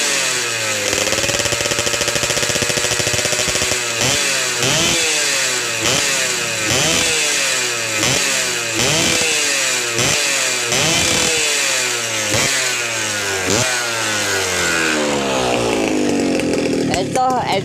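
A two-stroke SS110 motorcycle engine fitted with an RXZ carburetor revs hard in repeated rising blips, about one every second, loud and close, ending in a sustained high wail.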